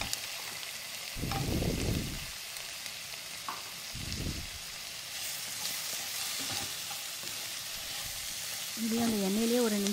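Drumsticks (moringa pods) sautéing in hot oil for a coconut-milk curry, giving a soft, continuous sizzle with a few louder bursts of stirring and a brief murmur of voice near the end.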